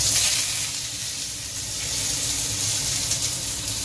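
Raw onions sizzling in a hot pan for a Bengali egg bhujia, a steady broadband hiss running continuously alongside a low hum, no voices.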